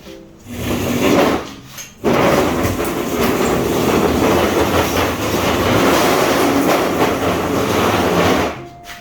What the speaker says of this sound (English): I'm ready to start welding